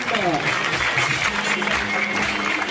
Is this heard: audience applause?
yes